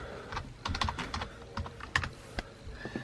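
A password is tapped out on a computer keyboard in quick, uneven clicks, close and quiet, with short pauses between keystrokes.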